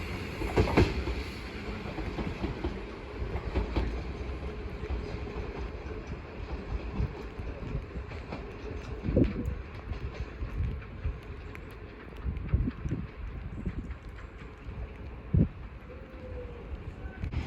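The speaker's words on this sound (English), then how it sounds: "Now arriving is the 11:32 London Overground service from Chingford to London Liverpool Street, being worked by a Class 710" A London Overground Class 710 electric train pulls into Bethnal Green station on the Chingford to Liverpool Street line, giving a steady low rumble with intermittent clunks and rail knocks that continue throughout.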